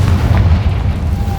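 Confringo fire blast spell in Hogwarts Legacy, a dense, loud low boom and rumbling burst filling the short moment, steady and close.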